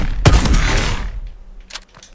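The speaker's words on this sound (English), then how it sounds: "Elite shotgun. The bang stick." The elite shotgun in Call of Duty Advanced Warfare fires loud, booming blasts, with one heavy shot followed by a long rumbling tail and a fainter second report.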